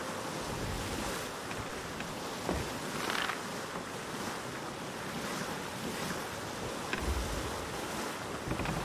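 Ocean waves and wind wash steadily around a pirate ship in a pirate video game, a continuous broadband roar with occasional heavier surges and no talk.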